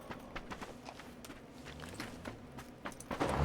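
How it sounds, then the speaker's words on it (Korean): Rapid footsteps from the battle royale video game PUBG patter in a quick, steady rhythm of soft repeated thuds throughout, with a louder burst of noise at the very end. "발소리 들었거든요"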